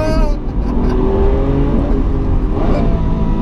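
Lamborghini Aventador SV engine accelerating hard in sport mode, a loud continuous roar with rising revs heard from inside the cabin, with people talking over it.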